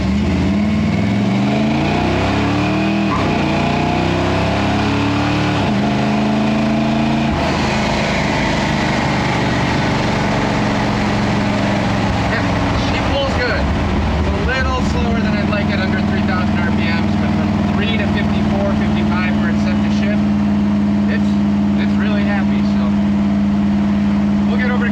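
A 1964 Ford F100 pickup drives along and accelerates, its engine droning steadily with pitch shifts as it speeds up, while someone talks over the running truck.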